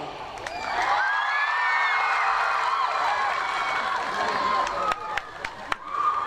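A comedy-night audience bursts into sustained applause mixed with shouts and whoops, loud and dense for several seconds before thinning into scattered claps and cries.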